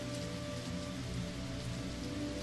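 Rain falls steadily over a city, a dense even patter that fills the whole moment without pause, with a faint low hum underneath and no voices.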